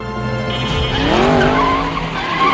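Race cars skidding in an animated racing film, a loud squealing tire skid with a rising, bending engine whine over a dense soundtrack.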